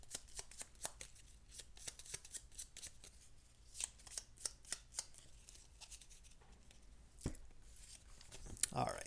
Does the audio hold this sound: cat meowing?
no